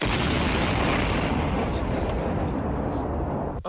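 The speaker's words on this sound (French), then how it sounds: "Explosion." A loud explosion effect plays as one long, dense booming roar that fills the clip and holds steady before cutting off near the end, with no talk over it.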